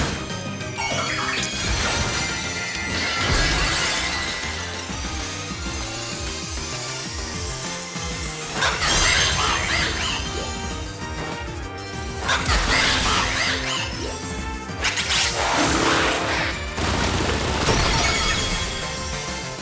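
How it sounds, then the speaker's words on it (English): Tera crystal shattering in the video game Pokémon Scarlet, a loud glassy crash and burst of breaking shards layered over game music, with several bright smashing bursts across the span. "So the Terra will shatter."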